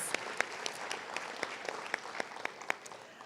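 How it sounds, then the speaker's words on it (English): An audience at a Martin Luther King Jr. Day celebration gives a round of applause: fairly quiet, somewhat distant clapping, with a few distinct sharp claps standing out from the steady patter. "Let's give everyone another great round of applause"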